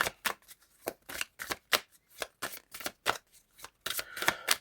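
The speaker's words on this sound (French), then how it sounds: "Je vais rebattre le jeu." A deck of playing cards being shuffled by hand in repeated quick riffling bursts, close and crisp, with brief pauses between each pass and no talking.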